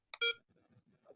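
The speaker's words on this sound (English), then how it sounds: "can you hear it beeping as I press the button?" Electronic button beep from a Zoomax Snow 12 handheld magnifier as its zoom button is pressed: a short, bright tonal beep up close, followed by faint low handling noise and a quieter high blip.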